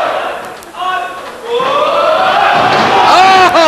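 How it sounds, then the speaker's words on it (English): A wrestling crowd chants and shouts together in an arena, the massed voices swelling louder partway through and carrying a rising, rhythmic call. "The crowd chanting for the mullet of Chaz Wesson."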